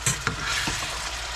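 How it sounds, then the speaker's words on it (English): Ground meat sizzles in a frying pan while being stirred, a steady close hiss broken by a few scraping knocks of the utensil against the pan. "it's seasoning the ground meat while you're frying it"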